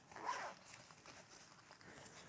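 Zipper on a Peak Design Tech Pouch, one quick close pull near the start, faint and nearby, then quiet handling.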